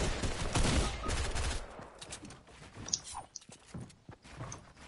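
Video game gunfire, a loud burst of rapid shots up front that gives way to scattered sharper pops and clatter, with a voice briefly heard in the mix.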